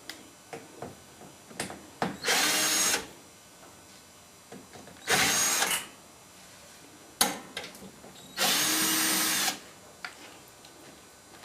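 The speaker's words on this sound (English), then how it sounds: "To remove the base, it's just 2 screws, and undo those." A power driver backing out the two screws holding the base of a Whirlpool Diplomat dishwasher, heard as three separate loud whirring bursts of about a second each, close by, with light clicks and handling noises between them.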